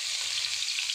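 Garlic sizzles steadily in hot oil in a pan while browning for a homemade pork menudo, a bright continuous frying hiss with no voices.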